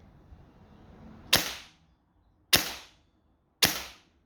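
Three sharp airsoft gun shots fired one at a time on semi-auto with a low FPS setting, each a crisp crack with a short decaying tail, spaced about a second apart over quiet background.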